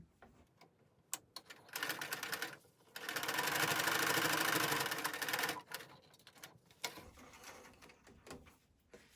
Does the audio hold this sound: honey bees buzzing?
no